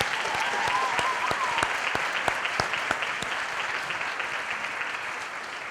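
Steady audience applause at a scholarship pageant program, a dense wash of clapping with sharper individual claps ringing out near the microphone in an irregular rhythm, staying fairly constant throughout.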